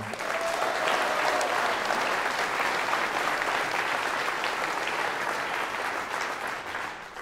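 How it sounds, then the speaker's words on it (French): A campaign rally crowd applauds loudly and steadily for a speaker being introduced, a thick unbroken roar of clapping that holds for several seconds and tapers slightly at the end. "Je vous demande d'applaudir très fort Sébastien Penamen."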